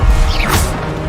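Expelliarmus spell cast in the wizarding game Hogwarts Legacy: one short loud magical whoosh with a crashing impact, close and alone, over a low rumbling bed.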